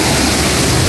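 Kasabangan Falls in Cabukgayan pours in a steady, loud, broadband roar of rushing water, close by and continuous with no voices.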